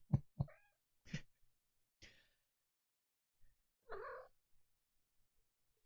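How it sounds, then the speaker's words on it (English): A pet cat gives a few short, soft, breathy calls spaced apart, ending in a more drawn-out meow, heard close in an otherwise silent room. "And my cat."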